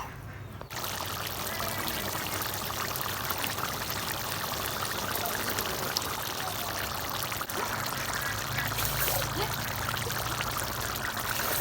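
Water is poured into a pan of cooked chicken skin as one continuous, close stream that fills the whole stretch over a dense background wash.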